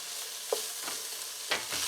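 Pepper stuffing sizzling in a hot pan while being stirred and mixed, a steady frying hiss with a few soft scraping strokes of the utensil.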